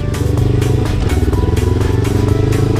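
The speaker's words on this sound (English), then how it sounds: "So when you're shifting gears" A motorcycle engine running loud and close with a rhythmic pulsing throb and mechanical clatter while gears are shifted, the revs holding fairly steady throughout.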